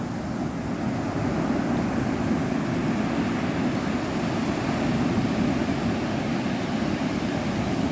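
Ocean surf rolls onto Navarre Beach, Florida, as a steady, loud roar of breaking waves mixed with wind buffeting the microphone, with no voices.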